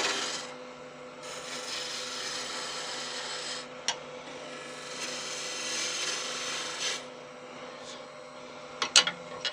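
Wood lathe taking a roughing cut on a snowman blank: a steady scraping, rasping rush of the gouge against spinning wood, swelling and easing in bursts, with a few sharp clicks and knocks near the end.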